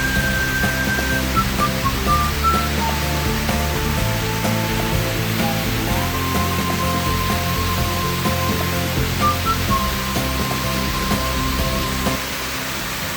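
Rushing water from a mountain valley stream at Seoraksan roars as a steady, dense wash of sound, loud and continuous, with a faint tonal hum running underneath.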